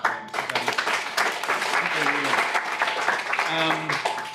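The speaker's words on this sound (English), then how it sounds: "a quick round of applause for everyone who's actually building a platform co-op of some kind" An audience claps for platform co-op builders at a talk on cooperative financing; the applause is fairly loud and close and carries on for several seconds under voices and cheering.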